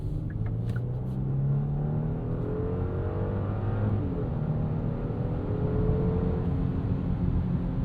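Genesis G80 3.5T twin-turbo sedan accelerating hard, a steady engine rumble and rising drone that holds loud and close through the whole stretch with no talk.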